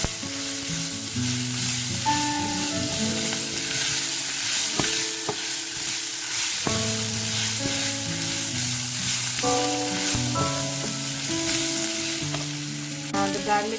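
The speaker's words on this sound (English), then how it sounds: "So when you add ginger and garlic, please keep mixing because the garlic might burn." Ginger and garlic sizzle steadily in a pan under constant stirring for a mutter paneer. A bright frying hiss runs throughout beneath background music, with no talking.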